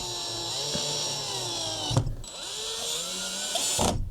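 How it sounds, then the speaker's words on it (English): A power drill drives two screws into wood, each a steady close whirring run of about two seconds that ends in a brief stop. "I need to screw it in place so I can actually check it out and measure it out"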